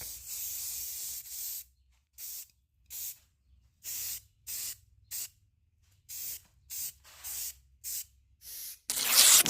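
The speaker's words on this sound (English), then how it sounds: "we are going to be using some of the spray paint in the satin French blue" Repeated short bursts of satin French blue aerosol spray paint hissing up close, each a second or so long, separated by brief pauses, ending in a louder, longer blast.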